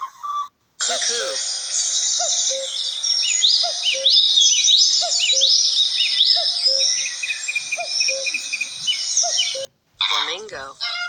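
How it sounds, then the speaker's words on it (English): A cuckoo call, played as a bird sound for children, with short repeated call notes over a dense, bright chirping background from start to finish. "Cuckoo."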